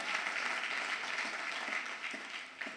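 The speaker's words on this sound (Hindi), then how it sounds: "राणा ये सुनो, तो बधाई हो आपको, ताली बजा लो।" An audience at a motivational talk claps in a dense, even burst of applause that fades slightly toward the end.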